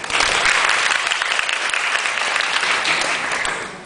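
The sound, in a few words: audience applause welcoming a speaker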